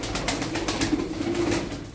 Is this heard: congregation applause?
no